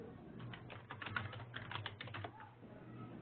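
Quiet, rapid computer keyboard typing, a soft irregular patter of key clicks heard faintly over a remote meeting connection, with no one talking.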